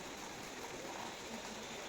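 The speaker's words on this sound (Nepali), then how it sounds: "हेर्नुहोस् पानी पर्दैछ है।" Steady rain falling outdoors in Kalimpong, a continuous even hiss of drops with no breaks, faint and distant-sounding.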